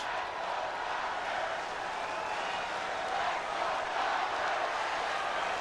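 Large crowd at a Dodgers vs Padres baseball game in San Diego keeps up a steady, distant roar and murmur, and a broadcaster's voice is faintly audible over it.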